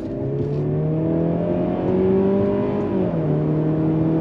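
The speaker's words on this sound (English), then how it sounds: "On throttle, here we go. Nine speed drops down on the brakes." A 2022 Mercedes-Benz C300 luxury sedan with a nine-speed automatic accelerates hard on throttle, its engine note rising steadily and loud and close, with a brief dip as the gearbox shifts partway through.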